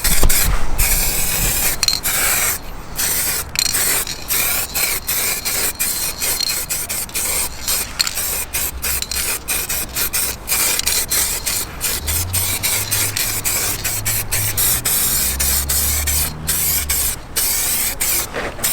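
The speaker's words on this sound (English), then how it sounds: "This is the final top coat." Dark gunmetal top coat is sprayed onto alloy wheels from a Mk2 Focus ST, a loud, close, continuous hiss broken by brief pauses, with a low rumble in the background and no talking.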